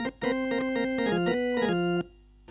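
Full organ preset on a vintage Hammond played without a Leslie: a bright, harmonically rich run of sustained notes moving down and up in pitch for about two seconds, close and steady, then cutting off.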